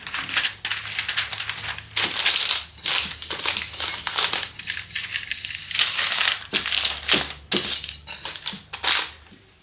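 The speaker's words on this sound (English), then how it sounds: "So I'm going to line this with parchment paper." Parchment paper is crumpled and crinkled by hand before it lines a casserole dish, giving loud, close bursts of crackling in repeated rhythmic handfuls with short pauses between, and no talk.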